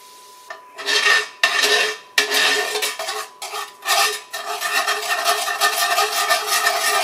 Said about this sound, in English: that red wine vinegar will definitely help deglaze the rest